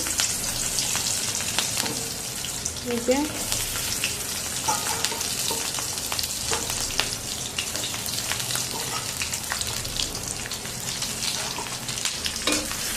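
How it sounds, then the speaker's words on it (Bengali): Steady crackling sizzle of onion, garlic and ginger frying in hot oil, with occasional stirring scrapes, continuous and close. "পেঁয়াজ রসুন আদা সব ভেজে নেবো"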